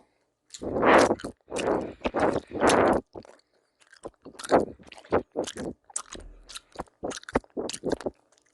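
Close, crisp chewing of a strawberry-flavoured jelly shaped like pork belly: loud squishy bites first, then a run of wetter, quieter chews and smacks in an otherwise quiet room.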